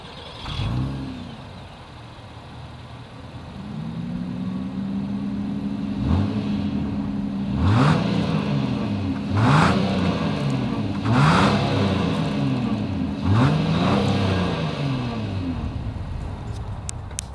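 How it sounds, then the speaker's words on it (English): The dual exhaust of a 2022 Acura MDX: the engine idles, then gets a series of sharp revs that climb and fall back in quick succession, heard close and fairly loud, with no talking. "As always, here is that exhaust clip."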